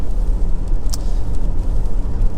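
Honda CR-V 1.6 i-DTEC SE diesel on the move at low speed, giving a steady low engine and road rumble inside the car, with no talking.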